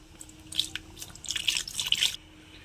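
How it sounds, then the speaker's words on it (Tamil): Water poured into a pot of toor dal drumstick sambar, heard as bursts of splashing and trickling that come and go, moderately close, with no talking. "இப்போ இது கூடவே தேவையான அளவு தண்ணி ஆட் பண்ணிக்கலாம்"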